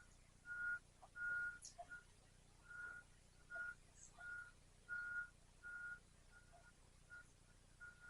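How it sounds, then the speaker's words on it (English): Vehicle backup alarm beeping in the distance, a steady train of faint, evenly spaced beeps with short gaps, heard alone over quiet outdoor ambience. "Keep hearing a backup alarm."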